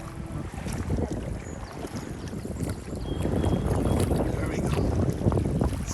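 Gusty wind buffets the microphone at a lakeside campsite during a stormy outing, a constant rough rushing that grows stronger about halfway through.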